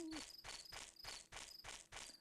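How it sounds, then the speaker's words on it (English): A cricket in the video game Chulip chirps in a steady series of short, evenly spaced bursts, loud and close against a quiet background. "That's a loud cricket."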